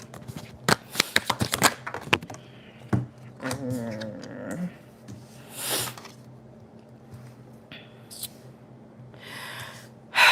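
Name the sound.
tarot cards being shuffled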